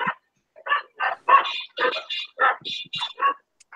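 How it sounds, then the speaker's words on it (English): Dogs barking and yipping in a scrappy fight, a quick string of sharp, overlapping close-up barks and yelps with short gaps between them. "Dog fighting."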